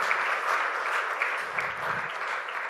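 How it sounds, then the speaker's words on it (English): A crowd applauds a panel speaker taking his seat on the dais at an energy-industry CEO conclave in New Delhi, with steady, dense clapping filling the hall throughout. "Request a round of applause for Mr."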